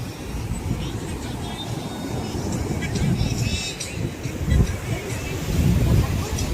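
Surf rolling in at Benaulim beach in Goa at night, a steady broad wash of waves with rumbling swells under wind buffeting the microphone.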